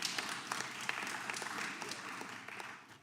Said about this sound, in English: Yeah, we should clap for that.